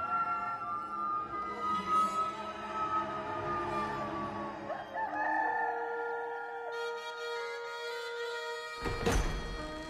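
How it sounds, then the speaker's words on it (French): A rooster crows in long drawn-out calls, clear and fairly close, followed near the end by a sharp thunk, with no one talking. "Et aussitôt, un coq se mit à chanter."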